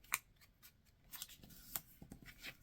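Paper creased and folded into an origami envelope, giving soft, quiet rustles and crisp little snaps scattered over a couple of seconds, close and faint with no talking.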